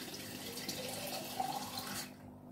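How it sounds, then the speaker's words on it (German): A whole bottle of water pours steadily into a cooking pot of shredded white cabbage, a continuous close splashing gush that stops abruptly near the end. "Und dann nochmal eine ganze Flasche Wasser"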